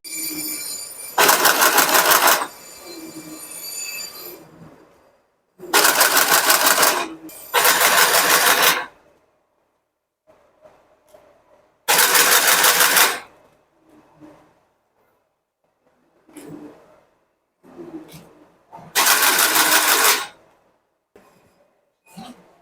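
A box-factory machine pins corrugated cardboard boxes in repeated loud mechanical bursts of about a second each, separated by quieter gaps with faint background voices and workshop noise.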